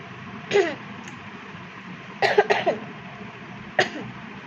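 A sick child with fever coughs in three separate bouts, short harsh close coughs, the middle one a quick cluster of several, with quiet room noise between.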